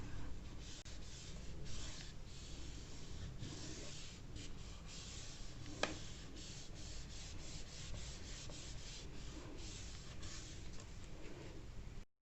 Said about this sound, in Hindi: ये वाला मैं जल्दी जल्दी पूरा रब करता हूँ